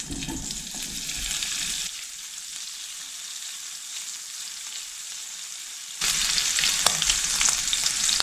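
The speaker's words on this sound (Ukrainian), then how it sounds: "відправляю смажити бекон" Bacon sizzles and crackles steadily in hot oil in a frying pan, loud and close, dipping quieter for a few seconds in the middle before surging back up.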